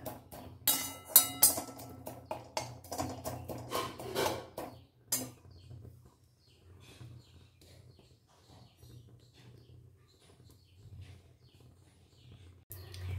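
Dry spices being stirred in a pan for Nim Begun preparation, a dense run of quick scraping clinks for about five seconds, then quiet with faint low hum and scattered soft scrapes.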